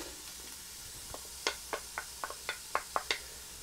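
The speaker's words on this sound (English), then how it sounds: "I see the olive oil starting to move a bit, so let's get the onions in there." Onions go into hot olive oil in a pan. Faint, quiet crackling gives way to about ten sharp little pops and ticks at an uneven pace.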